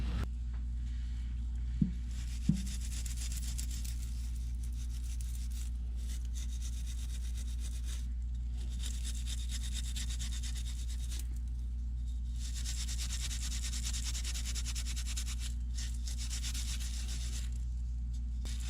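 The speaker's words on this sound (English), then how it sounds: "Then I take steel wool and I rub the rest of it with that." Steel wool rubs dried dirt off an egg in quiet, rhythmic scrubbing strokes that come in repeated bursts over a low steady hum, with a couple of small clicks early on and no talk.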